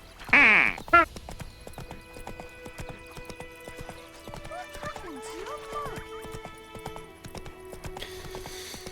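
Roach, the horse in The Witcher 3, trots with steady clip-clop hoofbeats throughout, opening with a loud whinny, under game music and a voice.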